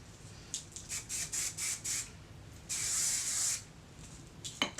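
Short bursts of hairspray hiss from an aerosol can over freshly curled hair, about six quick puffs in a row followed by one longer continuous spray, close and fairly crisp.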